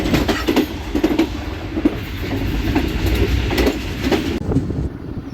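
Karachi Express, the 15 Up, slowing on its approach into Sahiwal railway station: a loud, close, continuous rumble with rhythmic wheel clatter and rail noise, no voices.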